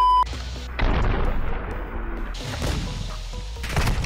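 Sniper rifle shot from an MCPR-330 in a first-person shooter, a sharp heavy report with a booming tail after a moment of quiet, followed by further loud gunfire and impacts.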